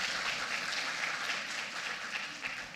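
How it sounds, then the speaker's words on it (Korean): Audience applause at a Korean public-sector conference session on AI-based ESG management, a steady dense clapping wash that holds evenly for the whole stretch with no voices over it. "다시 한번 박수 부탁드립니다"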